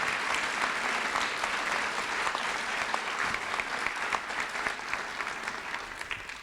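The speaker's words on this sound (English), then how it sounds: "give them a round of applause for our community" Sustained audience applause at a community graduation ceremony, a dense, steady clapping from a large crowd that carries on unbroken, loud and close, with no talk over it.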